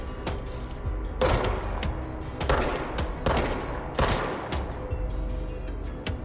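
Bursts of gunfire in the video game Control come in several loud volleys with rapid repeated shots and sharp onsets, with no talking over them.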